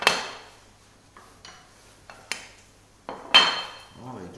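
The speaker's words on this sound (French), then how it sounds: "couper l'oignon." A knife cuts an onion on a board in a kitchen while celery puree is being prepared, giving a few sharp, irregular taps and clinks at close range.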